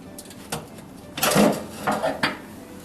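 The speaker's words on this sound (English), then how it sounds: "Every couple of days you can remove the ash pan and dump out the collected ashes" A metal ash pan slides out of a Hearthstone wood stove with a few scraping, clanking knocks, one longer rattling scrape followed by two short metallic bumps, close and moderately loud.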